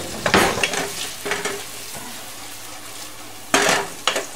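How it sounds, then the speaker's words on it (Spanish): Onion sizzles in a frying pan for albondigas, a steady fry under sharp scrapes and clatters as a spoon stirs it against the pan, in bursts separated by quieter sizzling. "Voy a acitronizar la cebolla."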